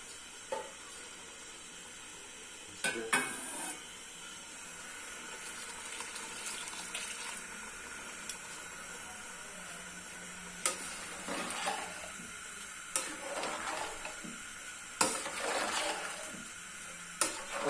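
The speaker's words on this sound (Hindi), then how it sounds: "सबसे पहले डालेंगे ये वाला पानी जो चनों का रखा हुआ है" Soaked chickpea water is poured into a hot pot for chana pulao, giving soft sizzling and liquid splashing with clanks of a utensil against the pot at irregular intervals, fairly quiet and close.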